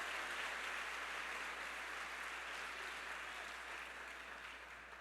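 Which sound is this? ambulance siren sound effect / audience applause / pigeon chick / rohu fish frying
audience applause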